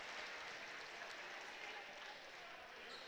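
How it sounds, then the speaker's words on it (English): Crowd applause at a Lehigh basketball game, a steady, distant-sounding wash of clapping and crowd noise at low level, with no clear talking. "Well-deserved applause."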